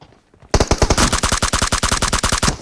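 Video game gunfire bursts in after a half-second of near silence: a loud, close, rapid automatic volley of evenly spaced shots that runs to the end.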